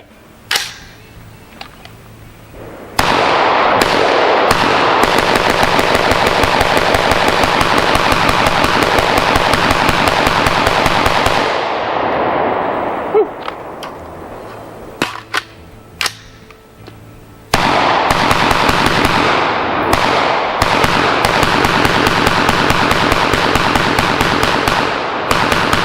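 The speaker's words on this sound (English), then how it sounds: "I'm gonna shoot at this tree round the whole time." An AR-15 rifle built on a StarLos SLF 15 polymer lower fires long rapid strings of sharp, loud, close shots with a muzzle brake. The bursts break off for short pauses and then resume, with scattered single shots in between.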